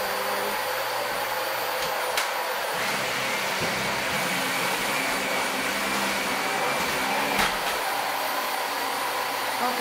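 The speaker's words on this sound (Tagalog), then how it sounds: "Na-vacuum na yung kama." A vacuum cleaner runs steadily over a bed, giving a continuous even whir at moderate level with no break and no voices.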